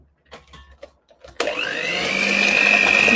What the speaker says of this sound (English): Mix that into the eggs.